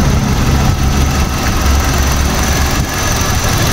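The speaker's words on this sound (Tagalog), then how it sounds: "so maandar na ang makina" The engine of a 2012 Hyundai Tucson runs steadily after starting, a close, continuous low rumble with a faint vibration and no voices.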